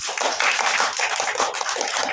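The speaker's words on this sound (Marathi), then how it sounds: "त्यासाठी एकदा जोरदार टाळ्या वाजवा" An audience clapping loudly and steadily at a children's values-class closing ceremony and prize distribution, a dense continuous patter of many hands.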